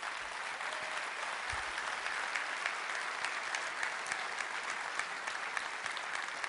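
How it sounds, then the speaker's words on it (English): Conference audience claps for an attendee at Enterprise Connect 2016, a dense, even patter of many hands sustained for several seconds at moderate distance, with a few sharper individual claps standing out. "I'd like to take just a real quick second,"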